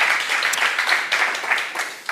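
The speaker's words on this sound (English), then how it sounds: "Round of applause for Nick, please" Sustained applause from an audience at a cleantech startup camp final event, a dense steady patter of many hands clapping with no break, fairly loud and close.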